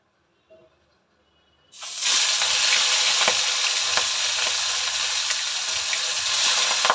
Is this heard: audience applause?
no